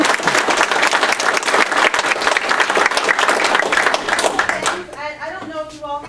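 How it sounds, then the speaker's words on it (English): Meeting audience breaking into sustained applause, dense overlapping hand claps for nearly five seconds before tapering off as a voice begins speaking. "I want to give everyone another round of applause"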